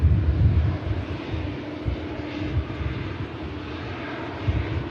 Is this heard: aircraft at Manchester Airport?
yes